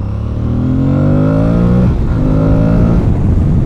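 An Aprilia Tuareg 660 motorcycle accelerating hard on a motorway, its engine note rising steadily through a gear, a brief dip at the shift, then climbing again, loud and close with wind rush.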